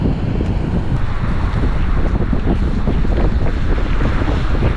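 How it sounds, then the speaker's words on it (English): A Jetson Warren fat tire electric bike rides through a snowstorm, with loud, constant wind roaring and buffeting against the microphone the whole time. No one speaks. "This is fun riding in the snow"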